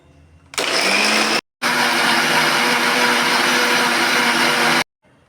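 A blender grinds cashews, cloves, cardamom and cinnamon into a paste. It is a loud, steady motor whir that starts abruptly, cuts out for a split second, then runs on for a few more seconds before stopping.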